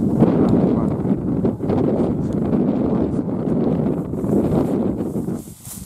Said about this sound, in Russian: показали, какая ветрища у нас